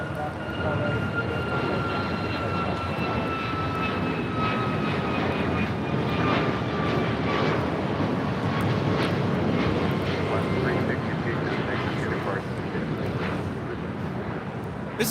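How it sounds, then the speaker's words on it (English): An Alaska Airlines Boeing 737 MAX 9 taking off at LAX: a loud, sustained jet engine roar with whining tones that slowly drop in pitch, lasting throughout without talk. "362 taking off to Fort Myers on a MAX 9."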